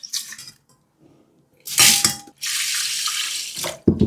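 Sushi rice being rinsed and polished under running water for temaki, with bursts of tap flow and sloshing grains in a bowl, stopping and starting in short spells, close and fairly loud with no talking.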